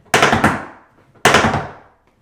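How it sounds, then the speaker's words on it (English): Tap dance cramp rolls on a hard floor, two loud bursts of quick rapid-fire taps, each a tight cluster of sharp strikes, separated by a short pause. "You could do cramp rolls."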